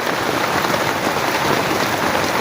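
Heavy rain pours down during a flood, a dense, steady hiss of drops striking surfaces that stays loud and unbroken throughout with nothing else heard.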